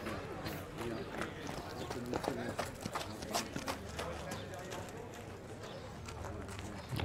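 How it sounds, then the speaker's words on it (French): A light-gaited AQPS horse moves at a show in Cercy, its hooves clip-clopping in a quick regular rhythm at moderate distance while a commentator talks over it. "Cheval léger dans son allure, qui se déplace très bien"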